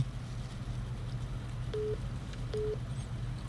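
A telephone busy tone after a dropped call to a radio show: two short, level beeps sound over a low, constant hum with no voices.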